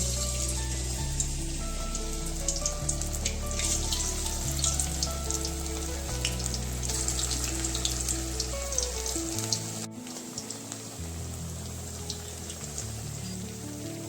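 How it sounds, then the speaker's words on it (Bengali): Fritters of pond greens sizzle in hot white oil in a kadai, a steady crackling hiss that runs alone and unbroken, with a faint background tune behind it. "উল্টে পাল্টে লাল লাল করে ভেজে নিতে হবে।"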